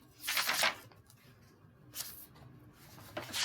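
Papers being shuffled and handled during a Latin class session: three soft rustling bursts, the first longest, separated by near silence and heard close by.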